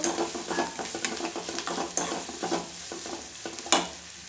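Sugar frying in a hot pan on a home stove, with steady sizzling and repeated scraping strokes of a stirring spoon; the sound is close and continuous, with no voices.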